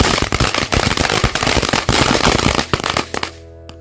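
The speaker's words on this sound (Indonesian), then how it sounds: "sore hari ini kita nyalakan mercon GE509 Amazing Flower Fountain" GE509 Amazing Flower Fountain firework going off, a loud dense rapid crackling and popping burst that runs for about three seconds and then cuts off abruptly into near silence.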